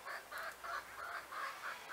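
A backyard hen clucks in a repeated rhythmic series of short, fairly loud bursts, about five or six evenly spaced calls close to the listener, with no talking over them.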